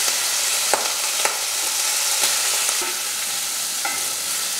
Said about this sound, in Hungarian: dobjuk rá a hagymát.